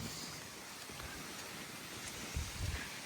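Steady rain falls over farm fields, a constant soft hiss of drops with a slightly heavier patter toward the end.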